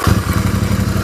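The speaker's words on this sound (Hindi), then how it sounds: "बाइक का आवाज़ सुन लो।" A parallel-twin engine motorcycle idling close by, with a loud, even, pulsing throb that beats rapidly and steadily.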